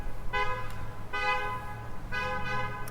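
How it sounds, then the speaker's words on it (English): Car horn honking in a single lane tunnel, three sustained toots with short gaps, loud and close over a low engine rumble and road noise. "So there's this cool single lane tunnel, and you have to sort of honk your horn, I guess, as you go through it."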